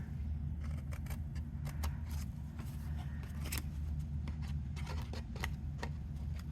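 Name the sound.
cutting a DIY folder with scissors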